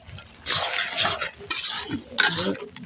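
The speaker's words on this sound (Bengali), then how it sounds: "নাড়তে হবে।" Mango pickle stirred in a pan, seasoned with garam masala powder: close scraping and stirring strokes in bursts with a light sizzle, no voices.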